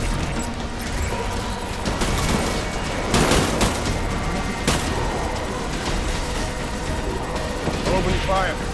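Gunfire during a battle in Death Stranding, scattered sharp shots and bursts mixed into a dense, busy combat din with mechanical noise, while voices speak over it.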